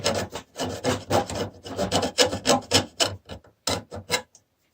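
A big hand file rasps burrs off a cut edge in a steady run of close, scraping strokes, about a dozen quick passes that stop near the end, with no talking.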